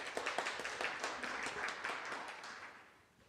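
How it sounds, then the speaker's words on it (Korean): A seminar audience applauds to welcome a researcher from the Electronics and Telecommunications Research Institute to a blockchain technology and policy session, a steady patter of many hands that fades near the end. "여러분 나재훈 박사님 큰 박수로 맞이해 주시기 바랍니다"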